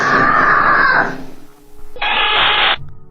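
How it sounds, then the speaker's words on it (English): A woman's loud, piercing scream sounds in two long bursts with a short pause between them, harsh and close, in a haunted house setting. "Then a loud scream pierces the air, sending the little girl running for mommy."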